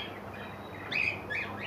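Java sparrows call inside a bird and aquarium shop in Medinipur, giving two short, bright chirps in the second half over a low, steady room hum.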